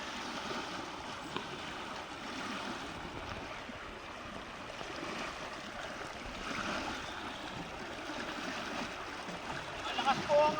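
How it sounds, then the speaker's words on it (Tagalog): A strong, deep river current rushes with a continuous broad roar and splashing, steady throughout with faint wind buffeting nearby. "Lakas ng agos."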